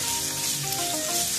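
Shallots frying in a pan for a crab roast give off a steady, close, fairly loud sizzle that continues without pause, and no one is talking.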